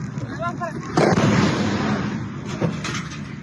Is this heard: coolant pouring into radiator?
no